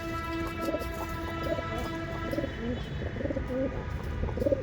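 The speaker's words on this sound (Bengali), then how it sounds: "একদম ইম্পোর্টেড পায়রা" Imported Rampuri pigeons from Tonk, Rajasthan, cooing in a loft: repeated soft throaty coos close by over a steady background hum, several birds overlapping in loose rhythm.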